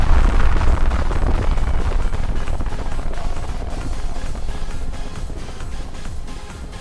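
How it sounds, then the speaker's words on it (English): Dolls blowing up in a fireworks display inside a park: a continuous heavy roar and rumble of blasts, loud at first and slowly fading, with no voices. "making them explode in a display of fireworks"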